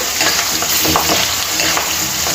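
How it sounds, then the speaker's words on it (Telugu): Whole green chillies and turmeric fry in hot oil with a continuous, close sizzle and occasional stirring scrapes, steady and loud throughout without speech. "అలాగే 1/2 స్పూన్ వరకు పసుపు, మిర్చి మొత్తం ఫ్రై అవ్వాలండి"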